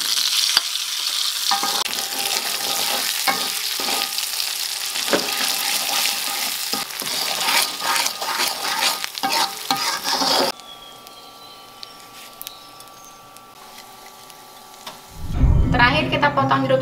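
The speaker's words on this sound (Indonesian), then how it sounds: "Nah, terakhir kita goreng terasi dan garam." Shrimp paste and salt fry and sizzle loudly in a pan while being stirred for Balinese sambal, a steady crackling hiss with scraping stirs, fading quieter near the end before a brief louder burst.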